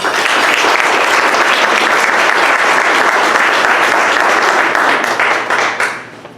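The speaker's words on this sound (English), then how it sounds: "Let's give him a round of applause." Sustained, loud audience applause at a community forum, a dense wash of many hands clapping at steady strength for about six seconds before tapering off.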